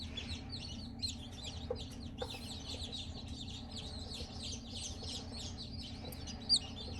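Newly hatched chicks peep steadily in a chorus of high, soft chirps, fairly faint over a low background hum, with one brief louder peep near the end.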